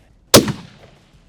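A single loud, sharp crack from a Christensen Arms MPR rifle firing an S&B round at a target about 500 yards away, with a short ringing decay and no voices.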